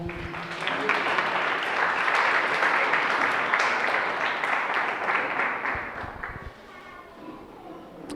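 A church congregation breaks into loud, sustained applause that swells and holds steady for several seconds before tapering off.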